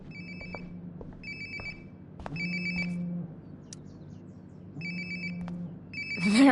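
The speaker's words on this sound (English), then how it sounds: "Sounds like my phone is definitely nearby." A phone ringtone from Life is Strange: Before the Storm repeats in short melodic bursts over a low ambient hum, with a few faint clicks and a rising electronic sweep at the end.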